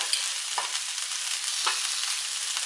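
Pork ribs and roasted peppers fry on a griddle with a steady, bright sizzle, broken by a couple of faint soft scrapes or stirs and no voices.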